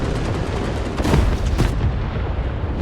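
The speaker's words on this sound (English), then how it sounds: "Oh, he's getting bombed." Bombs explode in War Thunder with a dense, rumbling roar, and a heavier booming burst swells in the middle.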